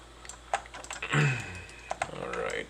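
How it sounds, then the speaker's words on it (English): Loud clacking on a computer keyboard in a home workspace, rapid irregular key taps in short bursts, close to the mic, with a brief low voice murmur in the middle. "My typing is quite loud."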